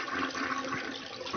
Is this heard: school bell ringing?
no